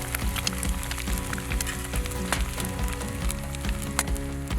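Bacon and eggs sizzle steadily in a pan for an outdoor breakfast at camp, a continuous close frying crackle with scattered pops and no talking.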